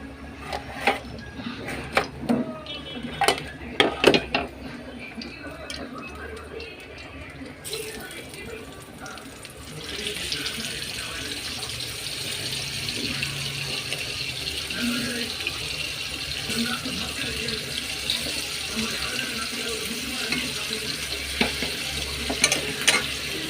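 Marinated fish coated in chilli powder frying on a dosa tawa: a steady broadband sizzle builds and holds after a few early clattering knocks of pieces being placed, with a faint trickle of water in the background.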